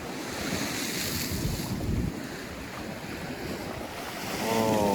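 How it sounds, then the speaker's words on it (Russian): Stormy sea waves crash and roar onto the rocky shore at Utyos in Crimea, a loud continuous surge with heavy wind buffeting the microphone and a fresh wave building near the end, with no voices. "идет огромная волна"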